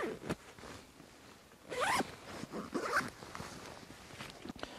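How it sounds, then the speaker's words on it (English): Zipper on a Hazard 4 Messenger Of Doom bag being pulled across a large two-zipper opening. A few quick, close rasping zips with small handling rustles in between, and no talking. "It's secured by this large two zippered opening here."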